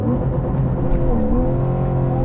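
A 350 HP Porsche 911 with a 150 HP aftermarket hybrid system makes a full overboost launch with wheel spin, giving a loud, close, sustained roar of engine and whirring drive that holds steady for a couple of seconds.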